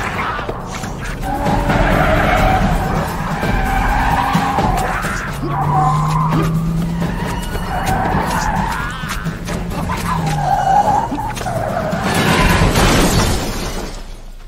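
Film sound effect of a car skidding and crashing, with sustained tire skid noise, impacts and shattering debris swelling loudly across the scene, heaviest toward the end, under a dramatic soundtrack.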